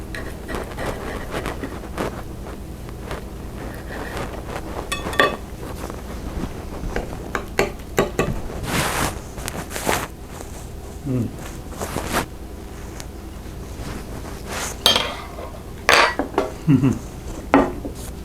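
Metal cutlery clinks and scrapes against a plate while someone eats sliced smoked tri tip beef with a reduction seasoning sauce. The contacts come as irregular, close taps and scrapes, and a voice talks now and then between them.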